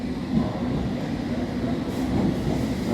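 A London Underground train rumbles steadily through a station, a loud, continuous low roar with a faint high squeal near the end and no speech over it.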